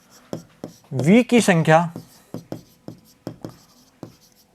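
Chalk tapping and scraping on a classroom board during a maths lesson, a series of short sharp strokes spaced at a steady rhythm, with a teacher speaking briefly in between.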